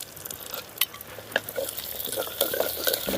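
Cumin seeds frying in a pan for an eggplant rice dish, stirred with a utensil: close scraping and tapping strokes over a soft, steady sizzle, with no voices.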